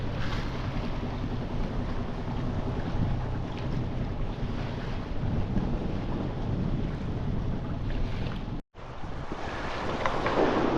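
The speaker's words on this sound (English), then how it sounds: "It's a little bit windy today." Steady wind roars across the microphone with a constant rushing buffet, water and sailboat noise underneath near Bawean island in the Java Sea, briefly cutting out near the end.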